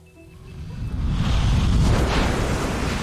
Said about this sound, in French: bruits d'explosion.